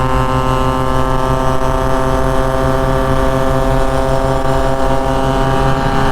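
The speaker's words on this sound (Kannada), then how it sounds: "ನಿಮಗೆ RX 100 ಬರೋ ಸೌಂಡು 135ಗಳಲ್ಲಿ ಬರಲ್ಲ ಗೊತ್ತಾ?" A stock Yamaha RX100 100cc two-stroke motorcycle engine drones loud and steady throughout, with a dense buzzing tone and no pauses or speech.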